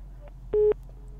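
A telephone line tone sounds during a live TV call-in show as the caller drops, a short steady beep standing out over low background hum, with faint fainter tones around it.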